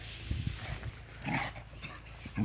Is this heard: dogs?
yes